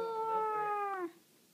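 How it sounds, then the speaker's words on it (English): A cat gives a single drawn-out meow, loud and close, about a second long before it cuts off into near silence. "cat, funny cat."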